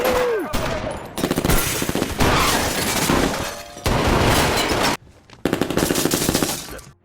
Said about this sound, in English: A fierce shootout ensues between the police and the gangsters